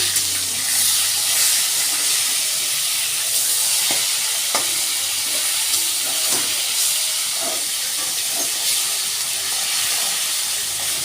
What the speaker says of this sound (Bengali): তো মাছটা উল্টে দিচ্ছি, এরপর এটা নামিয়ে দেবো